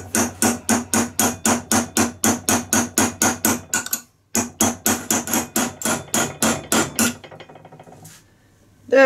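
A hammer taps a dummy bearing onto an alternator shaft during a Mazda alternator bearing repair, giving a steady run of sharp metallic strikes, about three or four per second, that pause briefly, resume, then stop.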